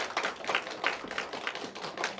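A church congregation gives a welcoming round of applause, a fairly faint, even patter of clapping hands sustained throughout with no one talking over it.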